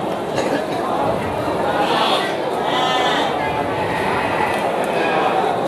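Garut sheep bleat repeatedly amid a busy livestock market, calls rising over a steady crowd murmur and nearby talk.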